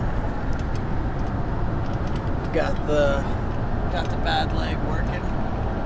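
A car hums along the road with a steady low rumble of engine and tyres, heard from inside, while someone talks over it.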